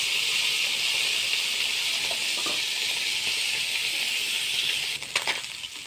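Puti fish frying lightly in a wok, giving a steady, bright hiss and sizzle of hot oil throughout, with a few faint clinks and a small burst of crackling near the end.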